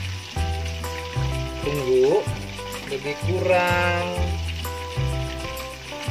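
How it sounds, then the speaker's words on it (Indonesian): Chicken pieces frying in oil over low heat for butter fried chicken give off a steady crackling sizzle beneath background music, with a brief spoken remark. "Kita goreng ayam dia hingga kuning kecoklatan."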